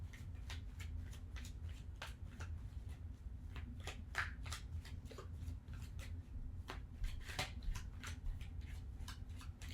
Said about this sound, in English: I'm just over here shuffling cards.